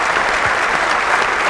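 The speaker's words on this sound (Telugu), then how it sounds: "give them a big round of applause" Studio audience on the Telugu TV quiz show Evaru Meelo Koteeswarulu breaking into loud, dense applause, a steady roar of many hands clapping at once.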